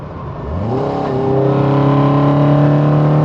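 A Toyota AE86 on a road rally accelerates to pass a truck and trailer, the engine note climbing sharply in pitch within the first second and then holding a loud, steady high-revving drone, close from inside the car with no talk.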